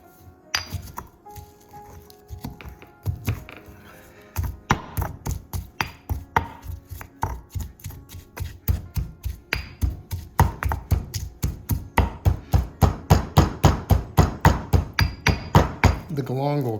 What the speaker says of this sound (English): The galangal kind of is resistant to smashing up.